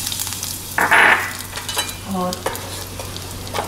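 Kasuri methi hits hot oil in a pan and sizzles steadily, with a brief clink and stirring sounds over a low background hum; a voice speaks briefly.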